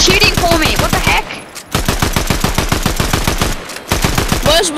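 Rapid automatic gunfire in Fortnite, loud close bursts of evenly spaced shots with two brief pauses between strings of fire.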